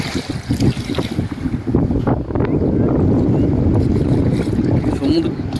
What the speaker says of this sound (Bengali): সমুদ্রের যে একটা গর্জন